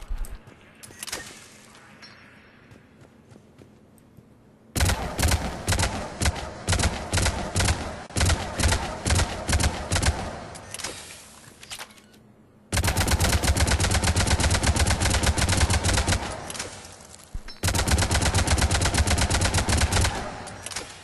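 Avenger assault rifle from Mass Effect 3 fired at long range in target practice, rapid full-auto bursts of loud gunfire in two long stretches separated by pauses, with quieter ambient game sound between.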